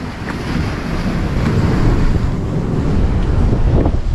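Strong, continuous wind roars and buffets the microphone on a 50-foot sea cliff, with surf rumbling below in a dense, unbroken wash of noise.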